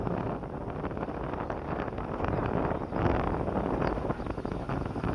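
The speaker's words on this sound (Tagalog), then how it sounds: "Lakas ng hangin," Strong wind buffets the microphone outdoors at a poultry house building site, a continuous loud rumbling roar with gusts swelling around the middle, masking everything else.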